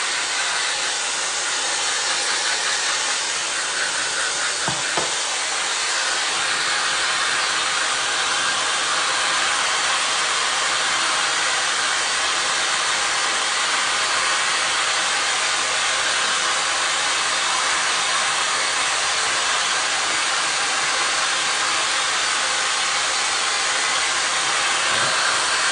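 A hair dryer blow-drying hair while styling a micro bob, a loud, close, continuous rushing whoosh that runs unbroken and steady throughout, with no talking.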